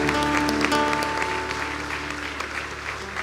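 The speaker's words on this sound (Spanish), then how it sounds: "Le damos un fuerte aplauso al Señor," A church congregation claps together after a Spanish-language Mass, a dense, steady burst of applause at close range that holds evenly for a few seconds, then slowly thins out.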